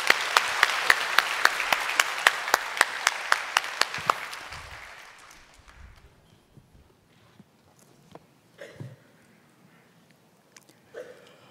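A burst of clapping from a church congregation, brisk and sustained for a few seconds, then fading out into scattered shuffles and small noises.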